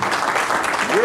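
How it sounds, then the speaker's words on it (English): An audience at a live show applauds, a dense burst of clapping mixed with cheering voices, fairly loud and close throughout the brief moment. "Y'all give a round of applause."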